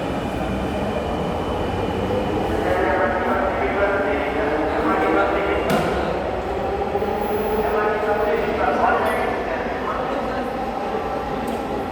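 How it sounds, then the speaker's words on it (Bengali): A metro rail train rumbles along with a steady wheel roar and occasional metallic squeals and clanks, loud and close, while people talk nearby. "মেট্রো রেলের আওয়াজ।"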